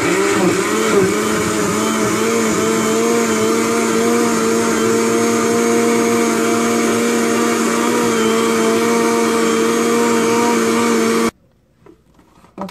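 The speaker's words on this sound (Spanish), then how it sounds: "ya está licuada la mezcla del flan" A blender whirs loudly and steadily as it blends a flan mixture for a flancocho, running for about eleven seconds and then cutting off abruptly into near silence.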